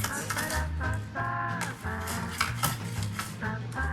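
Garlic cloves are cut evenly on an adjustable slicer, producing a busy run of clattering, clicking blade strokes that blend with metallic kitchen scrapes.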